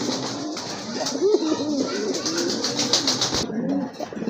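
Lahori Sherazi pigeons at a sale coo repeatedly with soft, throaty rolling calls, close by, over a murmur of background noise and a little voice.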